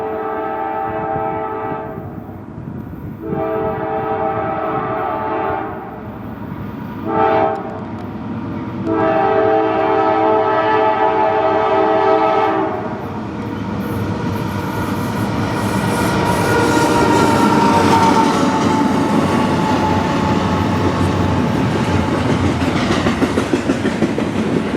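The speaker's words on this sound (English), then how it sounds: "Short train, there he goes." A short CSX freight train passes close by at a crossing in Dumont, its horn sounding in several loud blasts before the cars roll past with rumbling, clacking wheels and faint squeal.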